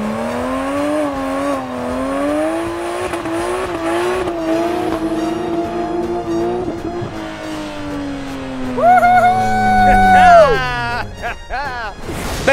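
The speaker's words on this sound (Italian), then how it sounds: "oggi vi porteremo a spasso con un Porsche Cayman S" A Porsche Cayman S 987 engine drones steadily under load while driving, rising and falling through gear changes, then climbs sharply in a loud rev near the end before easing off.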